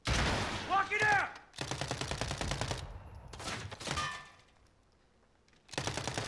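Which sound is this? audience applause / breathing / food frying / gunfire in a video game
gunfire in a video game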